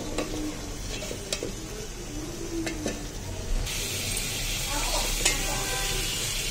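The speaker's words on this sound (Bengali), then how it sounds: "এখন এটাকে আমি এই মশলার সাথে একটু কষিয়ে নিব সবজিগুলো সুন্দর করে।" Vegetables are stirred into frying spices in a pan for a vegetarian dish, with a steady sizzle under repeated scraping and clinking strokes of a utensil, loud and close.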